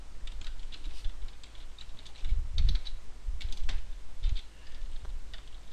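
Typing code on a computer keyboard for a C/C++ functions lesson: steady runs of close, crisp key clicks in uneven bursts with short pauses, no talking.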